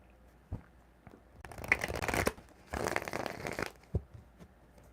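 Tarot cards are shuffled up close in two quick riffling bursts, soft papery flutters separated by a short pause, with light taps before and after.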